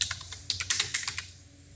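Keys clatter on a computer keyboard in quick bursts of sharp clicks, typing a short stock name into a trading platform search box, close and clear with no talk, then falling quiet near the end.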